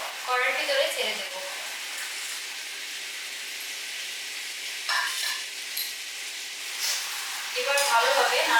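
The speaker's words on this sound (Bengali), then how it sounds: "এবার আমি মাছগুলো কড়াইয়ের ভিতরে ছেড়ে দেব।" Dried loitta fish goes into a hot pan of cooked spices, bringing bursts of sizzling and stirring over a low steady hiss, with a voice talking at moments.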